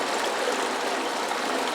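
Continuous rushing flow of water pouring out during cleanup of crushed gold-bearing rock, a steady close hiss with no talking.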